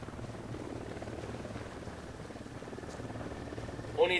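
A steady low rotor thrum of a helicopter in Ghost Recon Wildlands runs throughout at moderate volume, with a voice faintly present underneath and a brief bump near the end.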